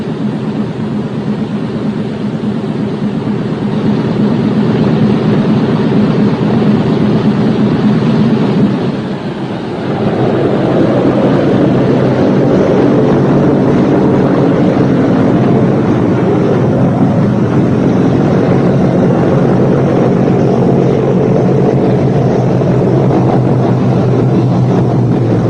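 Four radial engines of a B-17 bomber in a flight simulator game drone loudly and steadily, dipping briefly and then swelling as they rev up, with no talking.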